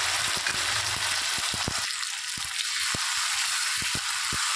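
Onion frying in oil with ginger, garlic and green chilli paste hisses loudly and steadily up close, punctuated by sharp scraping and tapping strokes of a spatula against the pan.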